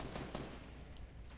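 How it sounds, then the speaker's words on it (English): Gunshots in a video game fired close to the player, two sharp bursts early on, then fading into a steady, noisy game background. "Somebody shooting beside me."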